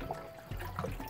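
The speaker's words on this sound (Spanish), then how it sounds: "procedemos a lavarlo con agua fresca para desechar toda la sal" Raw chicken rinsed under fresh water to wash away salt for a New Year's Eve dinner, a brief close splash and trickle of running water with no talk.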